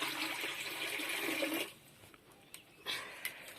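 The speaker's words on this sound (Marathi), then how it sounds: "त्यामध्ये आता शिजायला बरंच पाणी टाकायचं आहे" A steady rush of water pours into a cooking pot for about a second and a half, then stops, followed by a few light clatters and drips.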